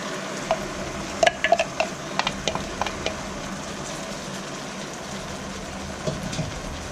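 Onions being stirred through hot oil in a pan for Thai green chicken curry, a steady low sizzle with scattered clinks and scrapes of the spoon, close and fairly quiet, without talking.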